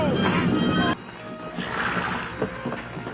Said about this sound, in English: Bunch of horses coming this way from the river